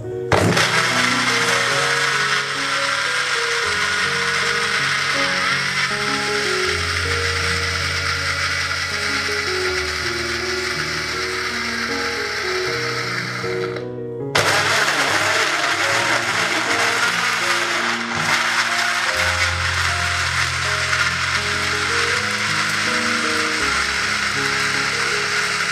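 A Sunhouse SHD5323 multipurpose blender whirs continuously while blending guava with yogurt, a loud, dense motor roar with shifting grinding tones and a brief stop and restart partway through.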